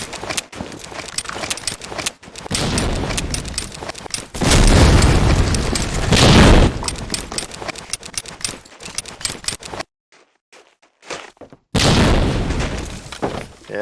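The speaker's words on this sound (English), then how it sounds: "the nades from Konami are hitting" Grenade explosions in the multiplayer shooter Medal of Honor: Allied Assault: several heavy booming blasts amid rapid gunfire clatter, with a sudden near-silent gap before another loud burst.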